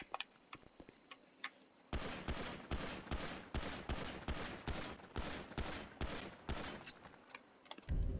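Pistol shots in the modded video game GTA V fire in a rapid, evenly spaced string of loud sharp cracks, preceded by a couple of seconds of faint clicking.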